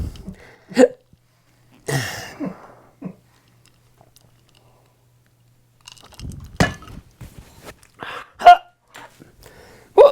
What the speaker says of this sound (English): Now I have the hiccups, sorry.